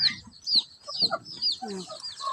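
Chickens cluck and call in a rural farmyard kept with ducks, several overlapping clucks and squawks close by at varying loudness.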